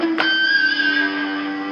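A single electric guitar pinch harmonic, picked so the thumb skin brushes the string, starts with a sharp attack and rings as a bright, squealing sustained note that fades slowly, loud and alone.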